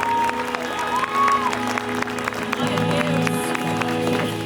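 A church congregation claps together during a worship service, the steady applause mixed with sustained musical tones and a few voices underneath.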